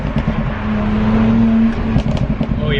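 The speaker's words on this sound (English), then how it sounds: "Now I don't know if you guys can hear the exhaust burbles" A BMW 335i with the N54 engine and an aggressive burble tune idles steadily in the background, a low droning hum with faint irregular crackles near the end, moderately loud throughout.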